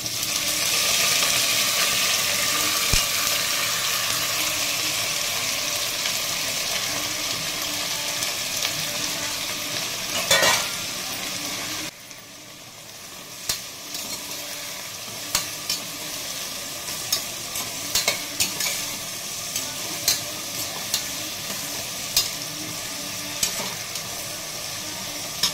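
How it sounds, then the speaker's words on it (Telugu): Green chillies and onions sizzle in a pan, a steady frying hiss that runs throughout. Scattered clicks and taps of stirring come in the later part, with no talk. "అందులోనే పచ్చిమిరపకాయలు, ఆనియన్స్ కొంచెం ఫ్రై చేసుకోవాలి"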